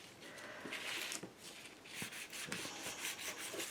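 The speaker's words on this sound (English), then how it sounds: "burnishing, you can go like this" Soft, close rubbing and scraping as paper is burnished down onto a handmade notebook, several uneven strokes with faint taps between them.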